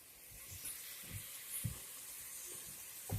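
Bacon frying in a frying pan gives a faint, steady sizzling hiss, broken by a few soft low knocks spaced through the stretch.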